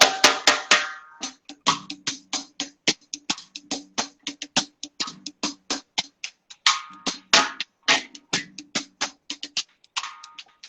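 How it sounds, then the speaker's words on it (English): Very high-pitched, tight snare hits mixed with small, simple toms in a recorded reggae-style song, a steady stream of sharp, evenly spaced strikes, some rolling in quick bursts, played alone without voices. "a very high snare drum, some small, simple toms"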